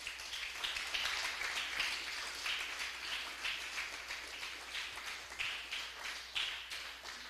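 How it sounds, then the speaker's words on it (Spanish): Church congregation clapping together in a steady, rhythmic beat, faint and somewhat distant, with no talk over it. "Denle un fuerte aplauso al Rey."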